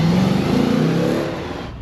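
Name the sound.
Audi RS4 B7 cabriolet 4.2 litre V8 engine revving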